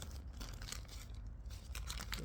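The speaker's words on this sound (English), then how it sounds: "So I use a clear plastic bag," A clear plastic bag is handled up close for moss wrapping while air-layering a variegated Japanese maple: soft crinkling and rustling in quick irregular bursts, fairly quiet, with no voices.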